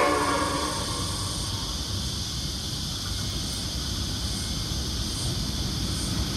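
A train rolls through the platform at Rhodes station without stopping, led by locomotives hauling the Ghan and Indian Pacific, giving a steady, loud rumble of wheels and cars with high-pitched hiss throughout and no talk.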